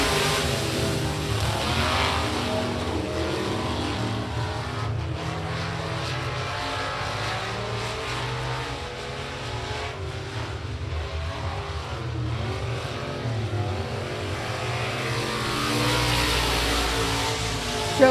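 Race cars lapping at Big O Speedway during a regular race program, their engines forming a continuous loud roar that swells and fades as the pack passes, with no talk over it.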